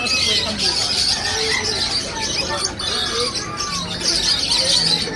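Birds chirp, squawk and coo together at a busy Saturday market in Malabon, a dense, nearby chatter that continues throughout with people talking in the background.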